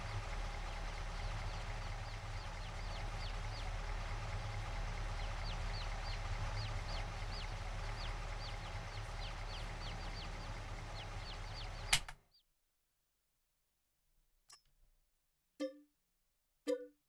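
Steady clucking from a flock of Farming Simulator 22 chickens over a low mechanical hum for about twelve seconds, then cutting off abruptly, leaving near silence with a few faint isolated sounds.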